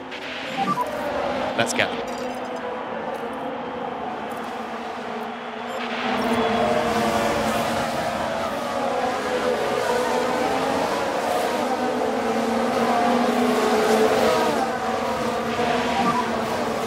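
F1 race cars roar off the start of the Miami Grand Prix in F1 Manager 2022, a dense engine rumble swelling louder after a few seconds, partly under someone talking.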